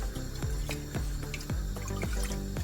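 Water splashes and sloshes around inside a cooking pot being rinsed, with a little water swirling in repeated rhythmic pulses close by.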